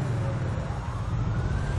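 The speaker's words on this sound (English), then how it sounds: "I'm hearing sirens already." Police sirens in the video game GTA 5 while riding a moped with a biker gang, a faint wailing tone over a steady rumble of traffic and engine noise, continuous throughout.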